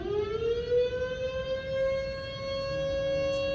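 Civil defense alarm siren in New Jersey, a loud sustained wail holding a steady, slowly rising pitch with rich overtones, carrying continuously throughout with no voices.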